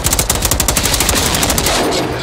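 Rapid automatic gunfire rattles in the shooter video game Generation Zero, a loud, close burst of evenly spaced shots that runs for about two seconds and then trails off.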